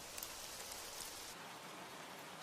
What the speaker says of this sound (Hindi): बारिश से बचने के लिए मैं यहाँ आ गई।